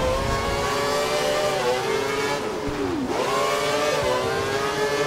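A Formula 1 race car on rain tyres in F1 2012, during qualifying in Abu Dhabi, holds a loud, continuous high engine whine. The pitch falls and climbs again as it shifts gears through a corner. No talking is heard.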